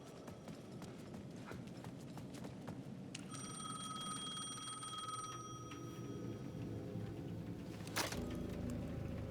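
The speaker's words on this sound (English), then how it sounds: "The payphone at the edge of the plaza was ringing again." A payphone at the edge of a plaza in the video game Alan Wake II rings with a bright electronic trill, then a second burst, over faint ambient background.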